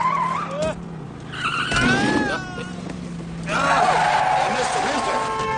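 A race car skids around a figure-8 track, its tires squealing in sustained bursts over a droning engine while a voice talks over the action.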